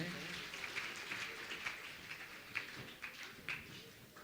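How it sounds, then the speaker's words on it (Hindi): An audience claps in welcome for an honoured guest at a religious ceremony, steady scattered applause at moderate distance, fairly faint, with talk over it. "जरा जोरदार तालियां बजाकर हम भी स्वागत करें।"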